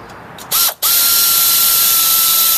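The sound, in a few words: ratchet removing axle retainer bolts on Toyota Tacoma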